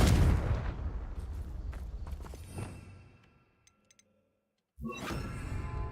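A Confringo blasting spell is cast in the video game Hogwarts Legacy: a loud, close explosive blast fades into near silence, then a second burst of crackling rumble starts abruptly.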